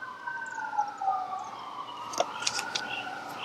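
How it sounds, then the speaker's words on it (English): Sirens wail in the distance, their pitch rising and falling as they pass, with a few faint knocks nearby. "I'm going to wait on the sirens to go."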